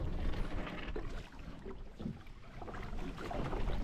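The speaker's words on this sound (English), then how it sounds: "I'm going to have to scull straight into the wind" A small boat is sculled into the wind, with water sloshing and splashing against the hull under steady gusts of wind buffeting the microphone, with no talking.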